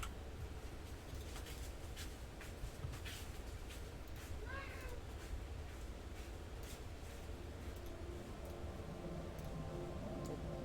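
One short cat meow rises midway through, close by, over a steady background hum and faint ticking sounds.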